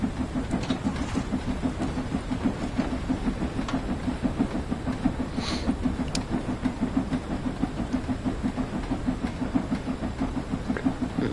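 A train in Train Sim World 3 runs on rails up a slight gradient toward Runcorn, giving a steady low engine rumble with rhythmic rail clatter and occasional faint clicks, continuous and fairly loud throughout, with no talk.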